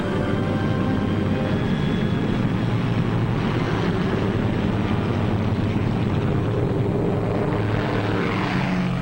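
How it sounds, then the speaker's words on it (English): Military transport aircraft engines roar at takeoff in a loud, continuous drone with propeller buzz and wind rush, steady throughout and close by. "we heard the roar of engines as the Pathfinder ships began hopping off"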